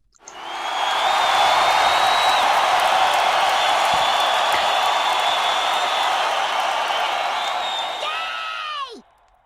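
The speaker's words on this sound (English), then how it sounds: "Let's hear it for Drew" A studio audience at a comedy show cheers, whoops and applauds loudly and steadily for several seconds, the roar cutting off abruptly at the end.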